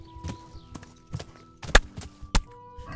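A horse's hooves clop in the medieval game Kingdom Come Deliverance, a few distinct, fairly close thuds at an uneven walking pace over a quiet background, with no voices.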